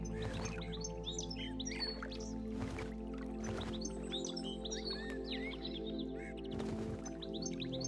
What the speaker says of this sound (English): A tiny chiff-chaff has to work up a lot of courage as it approaches the edge of the pond